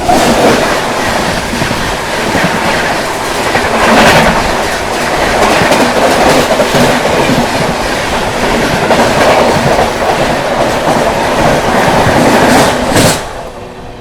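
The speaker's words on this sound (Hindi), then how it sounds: "और दोस्तों सामने से आ रही है LTT गया सुपरफास्ट।" The LTT Gaya Superfast Express rushes past close by with a loud, sustained roar and steady clickety-clack of wheels, cutting off abruptly near the end.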